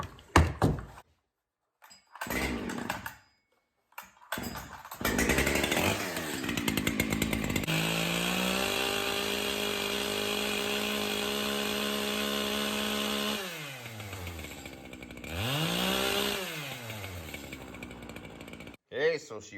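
An Echo CS-7310P chainsaw is pulled and started after a few thuds and cranks, settling into a steady close idle, then revving up hard twice before dropping back and cutting off.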